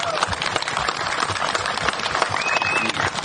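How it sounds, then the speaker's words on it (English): Audience applause at a family museum's seventh anniversary reunion, a dense, steady wash of clapping filling the room close by and holding loud throughout, with faint voices mixed in. "I think we owe him a big round of applause"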